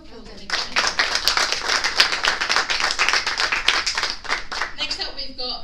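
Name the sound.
audience applause welcoming a speaker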